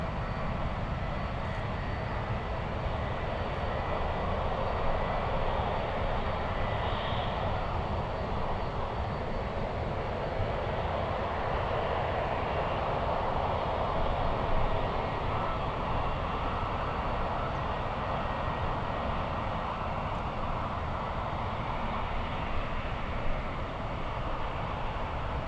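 An American Airlines airliner at San Francisco International Airport, a broad, steady roar of jet engine noise lasting throughout, loud and unbroken with no clear talking.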